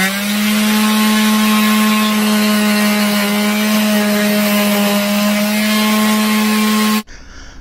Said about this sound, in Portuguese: Agora é só dar o acabamento aí, lixar, né, tirar essas rebarbas aqui